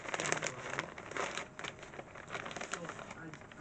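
Close crinkling and rustling of a small plastic zipper bag being handled, in irregular bursts, with someone talking quietly over it.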